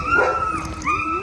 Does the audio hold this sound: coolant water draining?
no